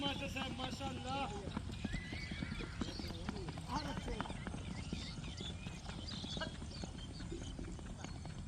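A horse walks with steady, rhythmic clip-clopping hooves and gives whinnying neighs, close and clear, while someone talks over it throughout.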